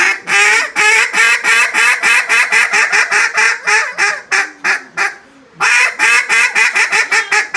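Freshly retuned duck call blown in rapid bursts of sharp, raspy quacks, a fast rhythmic string that pauses briefly and then resumes, loud and close with no talk.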